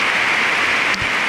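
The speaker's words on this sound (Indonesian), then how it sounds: "Hujan sangat lebat." Heavy rain falling in a forest, a steady dense hiss of downpour filling the whole clip, loud and continuous with no break.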